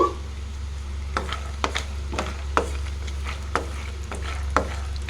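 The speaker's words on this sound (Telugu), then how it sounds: "పల్లీలు వేసుకొని ఫ్రై కానిద్దాము" Peanuts frying in a pan of hot oil with cumin seeds for a beaten-rice mixture, a steady sizzle under a low hum, broken by sharp scraping stirs and clinks at irregular intervals.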